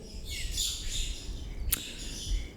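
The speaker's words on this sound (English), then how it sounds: "Got a few other birds there." Chirping bird calls in airport scenery in Microsoft Flight Simulator 2024, high and fairly steady across the scene, with a brief sharper call midway and a low ambient rumble underneath.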